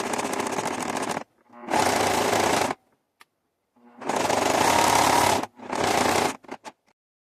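A sewing machine runs a three-step zigzag stitch in several loud, close bursts of fast whirring separated by short pauses, while finishing the edge of a tea towel.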